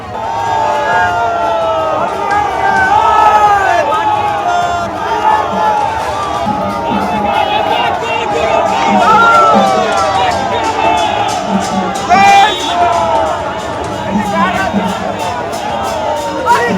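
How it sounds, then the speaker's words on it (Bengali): A large rally crowd chants the slogan "chor chor" (thief) in a loud, continuous roar of massed voices and shouting that fills the whole stretch, with cheers and rhythmic calls rising and falling. "তখন চোর চোর স্লোগান দেওয়া হয়।"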